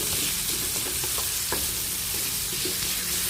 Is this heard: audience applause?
no